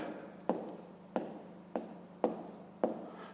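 A pen or pencil writes fractions on paper for a fifth-grade maths exercise, giving five short scratchy strokes spaced at a steady, unhurried rhythm against a quiet background.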